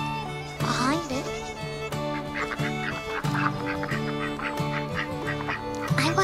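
Honking, quacking duck calls repeat in a steady run of nasal squawks from a duck in the video game Bear Simulator, loud and close, with faint voice-like sound mixed in.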